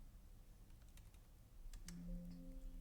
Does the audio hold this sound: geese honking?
no